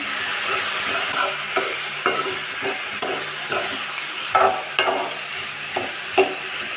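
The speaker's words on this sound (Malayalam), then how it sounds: "ഈ സമയത്ത് ഇതിലേക്ക് അരിഞ്ഞു വെച്ച വാഴപ്പിണ്ടി ചേർത്ത് നന്നായിട്ടൊന്ന് ഇളക്കിയിടാം" Chopped banana stem stirred with lightly browned onions in a pan for Kerala pindi thoran: a steady sizzle under repeated scraping strokes of a spoon, close and moderately loud, with no talking.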